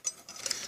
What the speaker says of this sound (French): Donc la fourchette va dans la cuillère